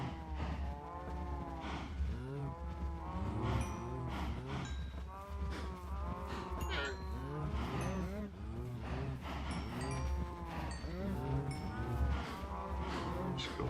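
Cows in the Aelcraft video game moo over and over in a dense, overlapping chorus of drawn-out, falling calls, heard at moderate volume with no talk over them.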